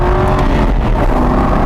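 A 2007 Aston Martin Vantage Roadster engine runs loud and steady, a deep throaty rumble held close up with no voices over it.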